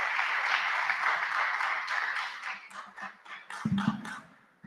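Audience applause for panelists at a session, a sustained crowd of clapping hands that thins into scattered claps toward the end as a voice begins speaking.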